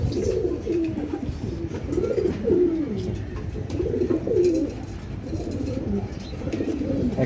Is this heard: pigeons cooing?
yes